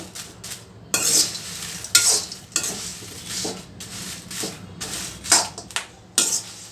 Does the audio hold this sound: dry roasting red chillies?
yes